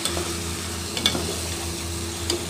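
Brinjal cooking with onion and tomato in a frying pan gives a close, steady sizzle, with a few soft scraping stirs and light clicks on top of the constant hiss.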